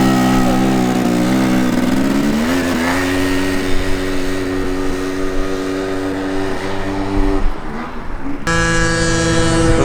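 A Derbi GP1 motorcycle fitted with a heavily ported 72cc Piaggio two-stroke engine revs loud and close, its buzzing note climbing in pitch, holding high, then dropping before snapping back up near the end.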